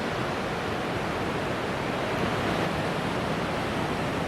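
Ocean waves crash against the sea stacks at Ruby Beach in a constant, loud, even roar of surf, with no voices and no break in the wash.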